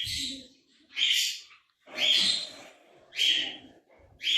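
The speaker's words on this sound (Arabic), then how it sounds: "ها عندك تما الطيور صاحبي" Caged domestic birds giving loud, repeated shrill calls in bursts about once a second, close by, with low murmuring in the gaps between calls.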